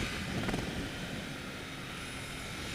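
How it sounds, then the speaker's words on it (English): The engine of a Royal Enfield Interceptor motorcycle speeds up during a ride. It is a steady, dense roar mixed with wind rush and stays fairly even throughout the short stretch. "the bike's speeding up and we're really getting into the flow of things"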